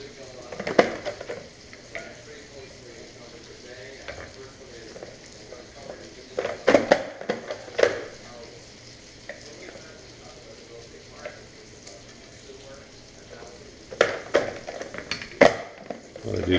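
Smoked sausage, andouille and onions frying in a pot, a low steady sizzle broken by clustered scraping and clanking stir bursts from a utensil against the pot.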